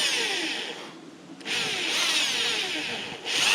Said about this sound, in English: We've got our pilot hole drilled in.